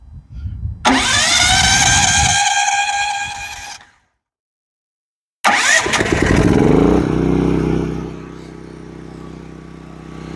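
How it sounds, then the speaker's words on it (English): GENMAX GM12000ED dual fuel portable generator with a 458cc engine, running on propane, cranks on electric start and catches into a loud run, falls silent, then starts again and settles into a steady roar. "And then you go to start."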